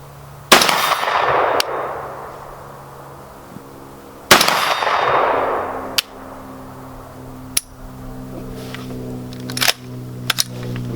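Sharp gunshots from an AR-style pistol-caliber carbine fired downrange at an outdoor range, a few loud single reports spaced seconds apart, each with a ringing echo decaying behind it, plus fainter clicks and clanks between shots.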